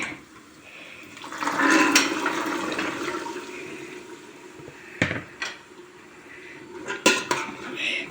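Chickpea stew is stirred in a pot, producing a wet, sloshing swirl followed by several sharp clinks and knocks of a utensil against the metal, close and moderately loud.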